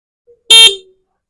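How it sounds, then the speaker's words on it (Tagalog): A car horn gives one short, loud honk after new wiring is installed, sounding alone with silence on either side. "Tapos, pindutin mo yung busina."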